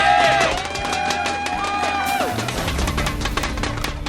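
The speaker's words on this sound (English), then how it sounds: "And the crowd goes wild." A live crowd at a StarCraft match cheers and whoops in a loud burst that settles into a steady murmur, with a whistle-like tone gliding over it early on.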